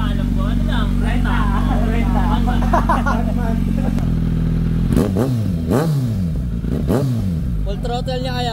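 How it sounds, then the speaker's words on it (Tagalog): A rented motorcycle revs hard at full throttle, its engine note rising and falling in repeated surges, loud and close, with people talking over it in the first half. "Full throttle niya kaya para marinig mo."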